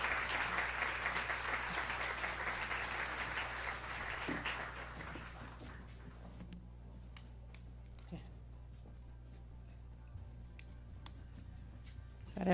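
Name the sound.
audience applause for honorees coming on stage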